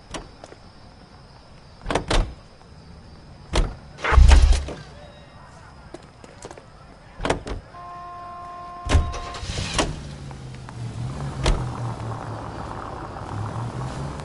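A Nash car in L.A. Noire, with a series of door clunks and thumps spaced apart, then the engine starting and settling into a low idle rumble.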